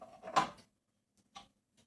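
An autoclave lid is shut and clamped down while canning fish in tomato sauce: one louder metallic clunk, then two quieter clicks about a second apart, close and sparse with silence between.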